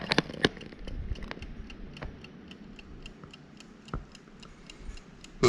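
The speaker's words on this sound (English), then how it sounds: "you can hear it ticking away" A mechanical 3-hour timer on a heavy base ticks steadily and faintly in a quiet room, with a few louder clicks and knocks mixed in.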